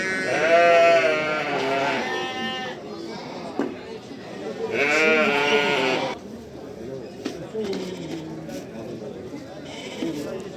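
Lambs and sheep at the Ganja sheep market give two long, loud wavering bleats a few seconds apart, followed by fainter bleats and market chatter, with someone speaking nearby.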